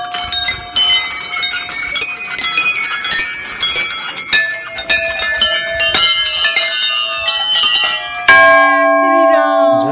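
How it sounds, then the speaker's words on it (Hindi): Many bells rung together at a Hindu temple, a dense run of bright clanging strikes that overlap and ring on, ending with a long sustained tone left to decay. "पूरी घंटियां लगी हैं।"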